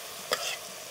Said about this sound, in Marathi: आपल्या फोडणीमध्ये टाकून घेऊ